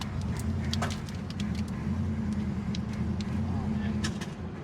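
An old junkyard muscle car engine drones low and steady under light throttle, heard from inside the car while it drives, with faint clicks and knocks over the constant rumble.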